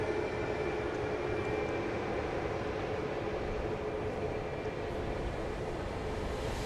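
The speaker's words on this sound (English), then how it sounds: "that's Flight 3214 that you're looking at there, going to Midland, Texas" A passenger airplane, Flight 3214 bound for Midland, Texas, rumbles at Dallas Love Field at night, a steady, even engine roar with no voices.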